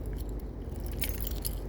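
A bunch of keys jangles close by in quick, light metallic jingles over a steady low background rumble.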